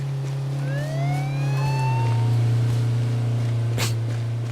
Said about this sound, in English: This guy's just driving around in the police car.